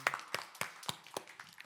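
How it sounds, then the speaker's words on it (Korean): A congregation claps after a closing prayer at a Korean church prayer meeting, with several sharp, separate claps spaced about a quarter second apart, fairly faint and a little distant. "우리 하나님께 영광의 박수 올려드리겠습니다."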